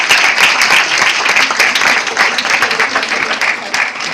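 Loud, dense audience applause fills a university seminar hall on cement mortars as a speaker is welcomed, continuous clapping without pause.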